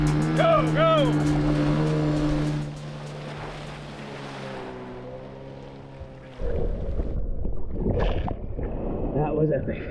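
Rushing engine roar and churning water from a fast boat speeding through ocean waves, loud and continuous, with a shout early on and splashing bursts later.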